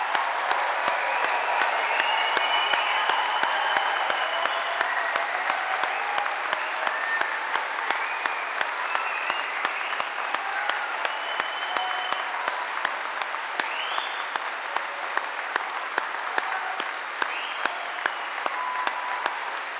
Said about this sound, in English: let's start today's ceremony by giving these amazing graduates a huge round of applause